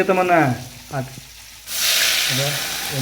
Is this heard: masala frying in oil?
yes